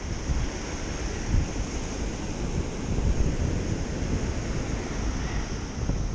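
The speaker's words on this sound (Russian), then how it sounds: "Море штормит, друзья. Очень сильно при том." Rough surf of a storm on the Black Sea roars continuously with heavy wind buffeting the microphone, a broad churning wash of breaking waves rising and falling.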